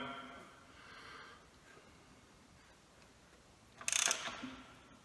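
An engine crankshaft is turned slowly by hand in a workshop lab, giving faint, soft mechanical ticks and ratcheting clicks, then a short, sharper clatter near the end, all at low volume.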